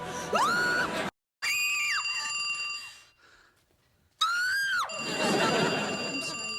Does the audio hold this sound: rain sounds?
no